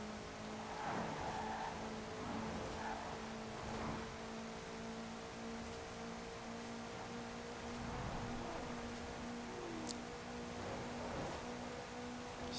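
A 1955 Porsche 550A Spyder in Forza Horizon 4 accelerates with a steady, faint engine drone and a rising tonal whine, the tone stepping up with gear changes.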